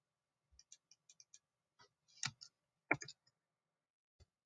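Scattered key clicks from a computer keyboard, a few light taps and then two louder bursts, quiet and close in an otherwise silent room.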